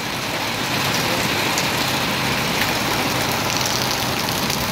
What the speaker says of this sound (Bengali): দেখেন এই যে বৃষ্টি পড়তেছে প্রচুর।